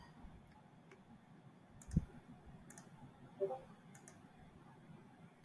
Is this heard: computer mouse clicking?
yes